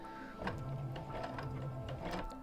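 Home sewing machine stitching slowly forward at low pedal pressure, a steady mechanical whir with soft repeated ticking of the needle, fairly close and alone.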